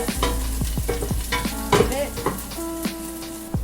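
Garlic and onions fry in a pan while a utensil stirs them, producing a loud close sizzle with repeated scraping strokes and ringing knocks of the spoon against the pan.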